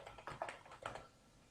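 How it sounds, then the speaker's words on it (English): A few quick keystrokes on a computer keyboard enter a password, close and fairly quiet, with a short cluster of clicks followed by a brief pause. "here we will type the password"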